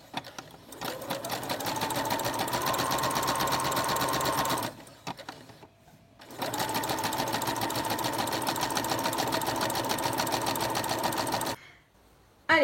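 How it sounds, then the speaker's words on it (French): A sewing machine zigzag-stitches along the edge of the fabric for a tote bag in two long, steady, fast whirring runs, broken by a short pause, close and clear with no talking. "L'aiguille va faire un zigzag dans le trou du pied de biche ici."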